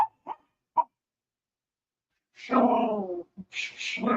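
Two dogs at play yip in a few short bursts, then break into a longer whining, whimpering bark with more yelps close by and fairly loud.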